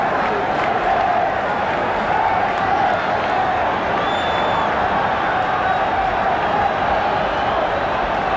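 Large stadium crowd at a Scotland versus England football match, a steady dense roar of cheering and applause from the Celtic supporters, continuous and loud throughout with a commentator's voice faintly mixed in.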